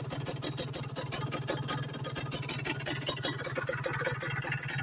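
A motorcycle with a racing exhaust idles at about 1000 rpm, a steady low, fast-pulsing engine putter heard up close with no talk.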